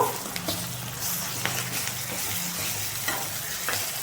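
Ginger garlic paste frying in a pan for Andhra fish pulusu, a continuous crackling sizzle with occasional scraping stirs, close and steady, no talking.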